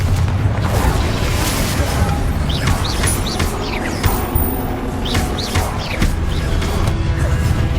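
Spell blasts and explosions from Hogwarts Legacy on PS5, a continuous loud wash of booming impacts and whooshing casts with sharp chirping sparkles layered over a dense rumble.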